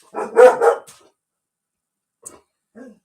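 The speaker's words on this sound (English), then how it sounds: "I tell all of you to keep your dogs quiet, and then this is what they do." Dogs indoors burst into a quick cluster of loud barks up close, then fall quiet, followed by a couple of fainter, brief yips after a pause.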